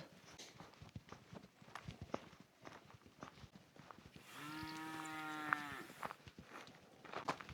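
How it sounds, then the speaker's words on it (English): A single cow moos loudly on a Welsh hillside, one long drawn-out low call lasting about two seconds, amid nearby footsteps crunching on the path before and after. "whenever I hear a cow moo"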